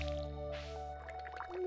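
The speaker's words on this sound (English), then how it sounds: "Water the pumpkins." Watering can pouring onto pumpkins in the farming game Stardew Valley, a short soft dripping, splashing trickle heard close over a steady background music bed.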